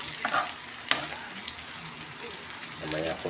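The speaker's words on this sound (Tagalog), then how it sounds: "Gigisa na ako ng luya at sibuyas." Steady oil sizzle of ginger and onion sautéing in a little oil for chicken tinola, with a clink of a utensil and faint voices in the background.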